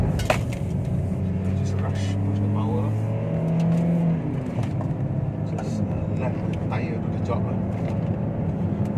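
A 2020 Perodua Bezza climbing uphill toward Genting keeps its engine revving hard under load, a steady strained drone with rising pitch, while someone talks over it throughout.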